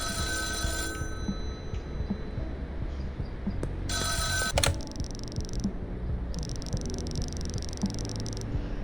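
A phone rings in the video game Schedule I, with two bursts of electronic ringing heard over a steady, busy background of game ambience.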